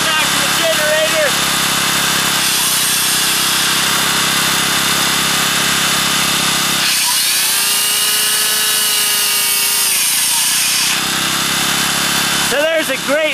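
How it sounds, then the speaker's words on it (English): A generator fueled by wood stove smoke runs steadily and loudly while a sizeable plugged-in power tool loads it, pulling its engine note down midway before it recovers. "That's a pretty good size power tool. It does load it down a little bit"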